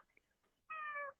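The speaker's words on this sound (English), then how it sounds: "my cat is always like meowing, trying to come in" A pet cat meows to be let inside, one short, clear, faint meow after a quiet moment, with no talk over it.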